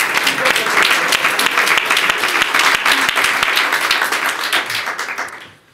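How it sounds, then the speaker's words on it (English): Applause fills a room at a mayoral grant announcement, brisk overlapping claps from a sizable audience holding steady for several seconds before fading out at the end. "Let's give her a round of applause for that."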